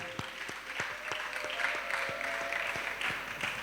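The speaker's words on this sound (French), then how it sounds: "Clap offering." A church congregation gives a clap offering, with steady applause from a crowd layered over a regular rhythmic beat and a faint sustained tone, and no talking.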